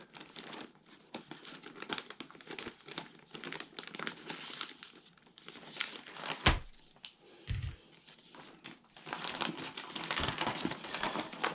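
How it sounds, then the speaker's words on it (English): Plastic bag crinkling and rustling as scissors cut it open, close and moderately quiet, a busy run of crackles with a few sharper thumps near the middle. "let's get a pair of scissors and cut this bag open."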